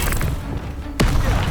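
Expelliarmus spell cast in Hogwarts Legacy: a sudden sharp crack with a booming low thud lands midway, over a steady rumbling game backdrop, close and loud with no talk.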